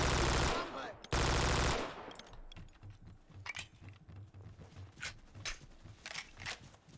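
Automatic gunfire in the Vietnam War shooter Vietcong opens with loud, rapid bursts, then gives way to quieter, scattered shots and clatter.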